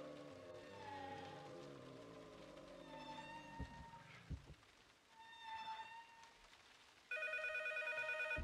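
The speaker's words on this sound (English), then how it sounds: "Phone rings." A telephone rings in the horror game P.T., with a bright, electronic ringtone bursting in loudly near the end after a stretch of quieter, eerie tones and thuds.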